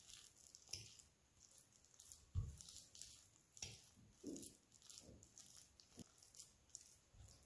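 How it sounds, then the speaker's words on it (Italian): A spatula works oil into high-hydration pizza dough in a pan, giving soft, wet squishing and slapping sounds at an irregular rhythm, close and fairly quiet. "Io sto lavorando con una spatola"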